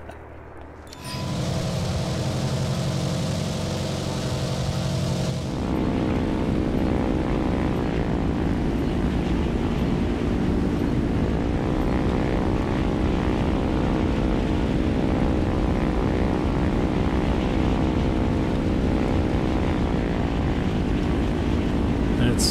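A propeller-driven fighter plane in the video game War Thunder drones steadily with a loud, close engine hum and shifting pitch, sustained throughout with no gaps.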